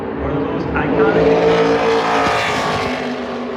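A NASCAR Xfinity race car crosses the line on a qualifying lap at Phoenix Raceway, its engine roaring loud and steady as it passes, with a commentator talking over it.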